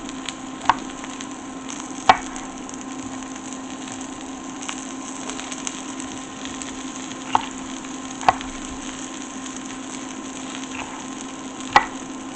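Onions and red peppers frying in a pan give off a steady, even sizzle and hiss, with a few sharp clicks and taps from stirring scattered through it and no talking.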